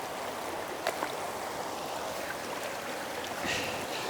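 Shallow stream water flows steadily over and around rubber wellington boots, a soft continuous babble with a few faint splashes and no voices.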